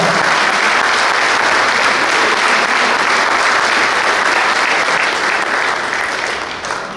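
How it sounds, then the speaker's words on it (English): Sustained applause from a banquet audience for the junior varsity boys lacrosse coaches, steady and full for about seven seconds before easing slightly at the end. "give them a round of applause"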